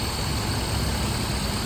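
A supercharged Toyota X-Runner with upgraded exhaust cam gears, intercooler and oil cooler idles smoothly, giving a loud, steady, even engine drone close by with no speech.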